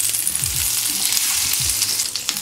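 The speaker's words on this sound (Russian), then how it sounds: "Мы будем ее сейчас обжаривать на сковороде, на сливочном масле." Potatoes frying in butter in a hot pan, a loud, steady sizzle with a few soft scraping stirs.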